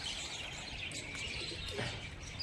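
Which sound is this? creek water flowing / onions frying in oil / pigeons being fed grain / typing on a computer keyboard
pigeons being fed grain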